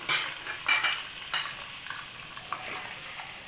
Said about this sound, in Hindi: घी हमारा हो गया गर्म, अब मैं डाल दूंगी मैं प्याज इसमें जो मैंने बारीक बारीक चॉप कर लिया है।